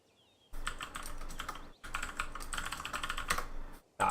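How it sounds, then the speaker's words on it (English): Rapid typing on a computer keyboard, close and clear, with dense clicking keystrokes in two runs broken by a brief pause and a final tap. "let me type to you"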